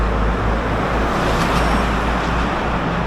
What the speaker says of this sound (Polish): a ruch samochodów dosyć duży